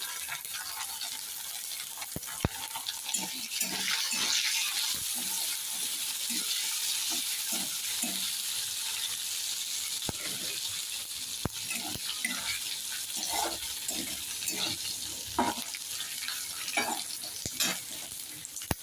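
Green chilies fry in a pan while upma is being made, giving a steady close sizzle broken by repeated scraping and stirring clicks from a spoon against the pan.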